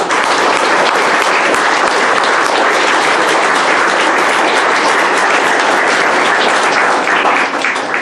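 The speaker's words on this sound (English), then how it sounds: "Let's give him a big round of applause." Loud, sustained applause from a gathered audience at an Eagle Scout court of honor, dense and unbroken clapping with no let-up across the whole stretch.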